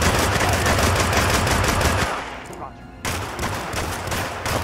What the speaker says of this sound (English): Oh, they got machine guns.